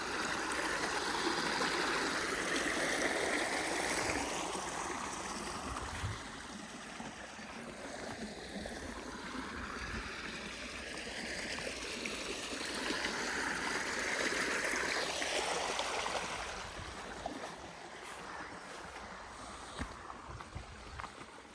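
Steady, loud rush of irrigation water flowing from a pump motor's pipe into a channel to water a maize field, continuous and broadband, with no voices.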